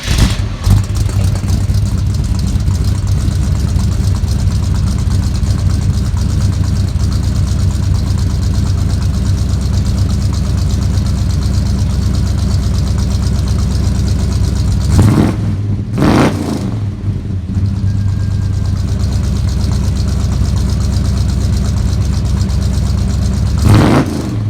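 A Squarebody truck engine fitted with an Edelbrock EFI system cranks and fires, then settles into a loud, steady idle, with a few sharp revs and brief drops in the engine note along the way. The engine runs close up, with no voices.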